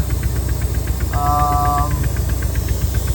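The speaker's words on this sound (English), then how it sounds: "What's that exhaust leak?" An idling Mercedes 560SEC engine with an exhaust leak gives a steady, rapid ticking puff over constant hiss, with a brief thin whine rising in the middle.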